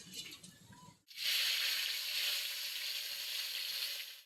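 Radhuni seeds and bay leaf hit hot oil for a Bengali tempering, bursting into a loud, steady close sizzle after a brief quiet moment, hissing evenly without pause.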